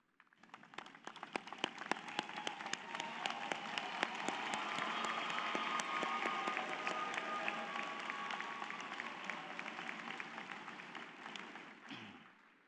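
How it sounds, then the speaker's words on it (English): Sustained applause from a large audience of graduates at a spring commencement for doctoral, specialist and master's students, thanking the faculty; dense, even clapping swells in and holds steady for several seconds before fading out at the end. "join me in applauding them and thanking them for bringing you to this happy day"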